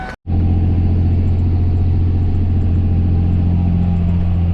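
A John Deere 9530T tractor runs steadily while seeding, a loud, constant low engine rumble after a brief cut at the start, with no voices.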